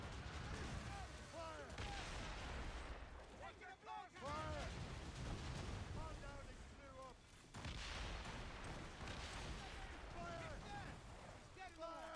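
Ship-mounted mortars firing in Assassin's Creed Rogue during a naval fight, heavy booming blasts and rumbling explosions repeating over several seconds, mixed with shouting crew voices and someone talking over the battle.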